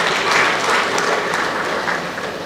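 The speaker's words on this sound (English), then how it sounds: "I think our health professionals in diaspora deserve a round of applause for this." Audience applause at a diaspora event honouring health professionals, a dense, steady wash of many hands clapping at moderate distance, easing slightly toward the end.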